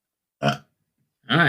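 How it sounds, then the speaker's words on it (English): A short, low burp rings out, then after a brief pause a person says a couple of words. "Did you just burp at me?"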